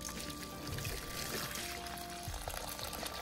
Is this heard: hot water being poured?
yes